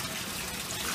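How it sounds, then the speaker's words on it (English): Water poured onto a washcloth during hand washing of clothes, a brief soft splash and trickle heard alone. "Dump water on it."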